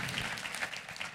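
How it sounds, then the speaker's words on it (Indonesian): A church congregation applauds, a dense, even wash of many hands clapping at moderate loudness with no voices standing out. "kita kasih tepuk tangannya yang meriah buat Tuhan kita"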